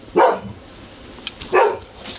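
A dog barks twice, a pair of sharp, fairly close barks about a second and a half apart, with quiet room background between them.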